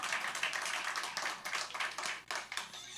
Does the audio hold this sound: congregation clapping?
yes